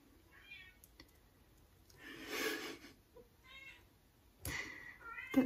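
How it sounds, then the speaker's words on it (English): A cat meows indoors, several short faint mews spread across a few seconds, with a louder final cry near the end, amid quiet background rustling. "That's my cat."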